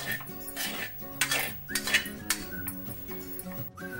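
Spoon scraping and clinking against a pan while besan laddu mixture with sugar and cardamom powder is stirred, steady rhythmic scrapes and clinks close up over faint background music.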